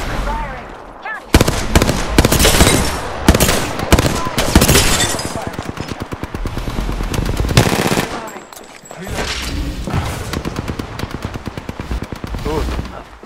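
Rapid bursts of automatic gunfire from an Apex Legends match with Bloodhound, loud and dense, coming in long rattling volleys with brief pauses and short talk mixed in.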